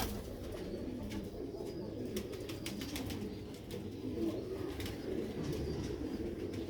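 Record-holding original-breed pearl pigeons coo steadily and close by in a loft, with soft flutters and a dense, continuous murmur from the flock.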